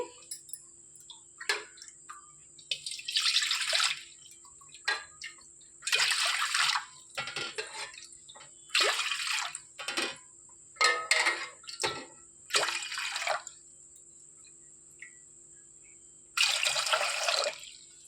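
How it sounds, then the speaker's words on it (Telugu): Five glasses of water poured from a glass into a pot on a stove for sago vadiyalu, several separate splashing pours of a second or two each with quiet gaps between, close and clear. "స్టవ్ మీద గిన్నె పెట్టి ఒక ఐదు గ్లాసులు వాటర్ పోసుకోవాలి"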